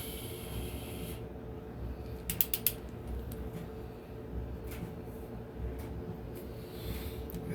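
Torque wrench clicking while a camshaft is installed in a Ford 351 Windsor engine, with a short rapid cluster of sharp clicks partway through and a few fainter ticks over a steady low shop hum.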